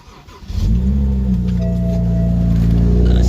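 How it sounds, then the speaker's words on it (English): A BMW 335i engine cranks and catches after a brief starter whir, then settles into a loud, steady idle hum up close. "Alright, so let's turn on the car."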